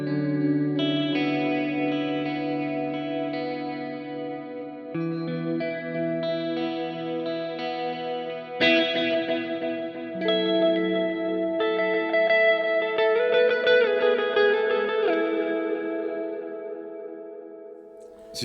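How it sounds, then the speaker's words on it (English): Electric guitar through an MXR Joshua Ambient Echo pedal, with sustained chords and picked notes washed in lush reverb and echo, layered tails blooming and decaying, played alone for about eighteen seconds. "so you've got this lovely lush reverb as well"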